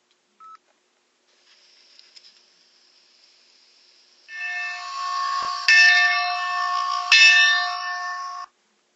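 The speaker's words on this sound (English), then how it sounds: "At sundown, Muffin heard the dinner bell." A bell rings for dinner on a boat at the seashore, bright sustained ringing tones that start after a few faint clicks and swell into two strong struck peaks before cutting off.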